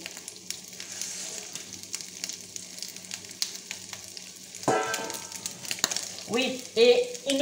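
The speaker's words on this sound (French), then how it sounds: "je mets un peu ma viande à revenir" Beef browning in a pan for boeuf bourguignon: a steady, soft sizzle of frying meat that flares louder and crackles when stirred near the end, heard up close with no talk.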